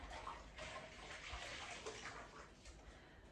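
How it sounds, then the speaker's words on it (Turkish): A cloth is washed under a running tap, giving a faint, steady rush of water with soft splashing and sloshing throughout and no talking. "Bezimizi yıkayalım."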